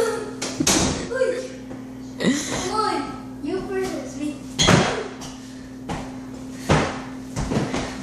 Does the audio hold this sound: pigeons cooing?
no